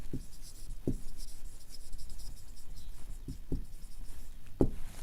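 A pen writing on paper in a quiet room, short scratchy strokes in a few separate bursts, close and faint.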